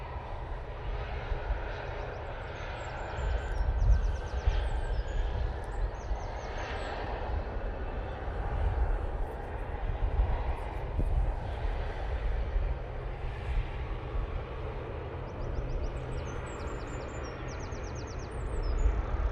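A passenger airplane landing and rolling out on the runway at Manchester Airport gives a steady, broad jet roar heard from a distance throughout, with faint bird chirps now and then.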